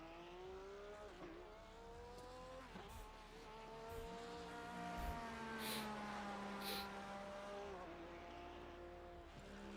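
A GT3 race car in a racing video game at COTA pulls out of the pits, its engine droning steadily with rising and falling harmonic tones as it shifts, plus brief tire squeals, with no talk over it.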